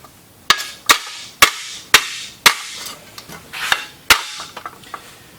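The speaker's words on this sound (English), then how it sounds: "I'll use my body hammer" A body hammer strikes metal in a series of sharp, ringing blows, about eight hits with brief pauses between them, close and loud.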